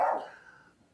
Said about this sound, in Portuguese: Agora é o cachorro latindo aqui.